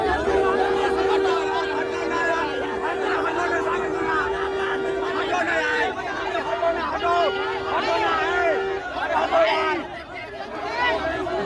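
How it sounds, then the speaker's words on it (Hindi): A large crowd outside a jail for Manish Kashyap's release fills the air with dense, overlapping chatter and shouting, with voices close by and a steady hubbub throughout. "देख सकते हैं दोस्तों कितना भीड़ है।"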